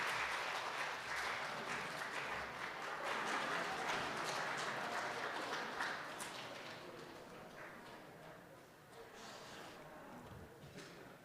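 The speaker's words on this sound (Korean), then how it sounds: "우리 박수로 환영하겠습니다" A church congregation claps together at a Sunday morning worship service, a dense, steady wash of applause that holds strong for several seconds and then gradually thins and fades.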